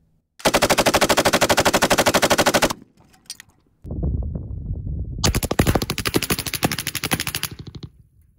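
A WW2 Soviet SG 43 machine gun fires outdoors in loud, close bursts: one sustained burst of over two seconds, a brief pause, then a second long rattling burst with sharp individual shots.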